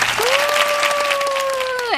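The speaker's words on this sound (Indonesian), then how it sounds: "Ini harus dikasih tepuk tangan mereka" Studio audience applause on a talk show, dense continuous clapping from a crowd throughout, with a sustained tonal voice or whoop running above it.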